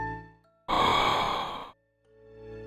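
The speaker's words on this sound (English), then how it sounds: "there is also a strange sound called breath.ogg, which sounds like this." A Minecraft breath sound effect: a single breathy exhale, loud and close, lasting about a second, standing alone against quiet background tones.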